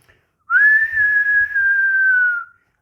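Someone whistles with the mouth, holding a single clear, steady high note for about two seconds with a slight rise at the start and a gentle fall at the end.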